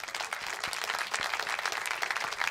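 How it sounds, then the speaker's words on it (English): A short round of applause is used as a celebratory effect in a beginner music theory lesson, a brisk, busy patter of many hands clapping, moderately quiet and unbroken. "Let me go ahead and give you a round of applause"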